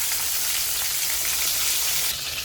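Sliced eggplant frying in hot oil in a pan, a loud, dense, continuous sizzle heard close up with no talking.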